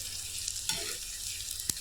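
Sliced onion frying in hot oil with mustard seeds and curry leaves in a pan for Kannur-style uppumavu, a soft steady sizzle with a couple of brief stirring clinks, quiet and without talk.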